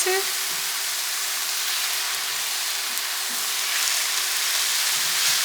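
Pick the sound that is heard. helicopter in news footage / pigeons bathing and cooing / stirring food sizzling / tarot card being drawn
stirring food sizzling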